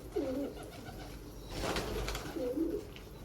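A Limonu Akbaş pigeon, a female, coos twice in short low rounded phrases close by, with outdoor background noise between the calls and no speech.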